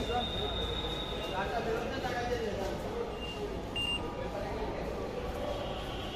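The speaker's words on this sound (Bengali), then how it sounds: "ট্রেনের শব্দ পাওয়া যাচ্ছে ট্রেনে চলে এসেছে" A Dhaka Metro Rail train pulls into the station with a steady rumbling roar and faint high squeals and beeps, while people talk nearby.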